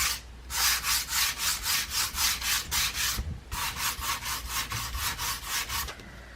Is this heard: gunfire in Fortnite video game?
no